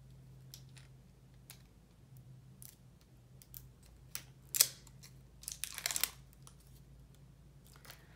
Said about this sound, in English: let me take the packaging off